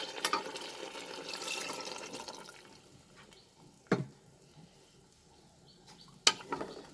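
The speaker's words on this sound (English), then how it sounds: "now I will add water." Water trickles and splashes softly into a pressure cooker with measured dal, fairly faint, followed by a couple of sharp metallic knocks.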